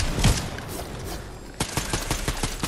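Gunfire in the Fortnite video game: a loud single shot, then a rapid run of sharp repeated shots near the end, close and punchy with no talk over them.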